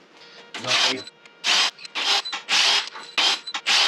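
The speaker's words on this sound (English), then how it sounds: "Now that all those bolts are loosened up, I'm just gonna zip them off" A power tool buzzes as large bolts are zipped off during the teardown of a 1995 Mercedes E320 3.2L inline-six engine. The loud whirring bursts come in repeated short runs separated by brief gaps.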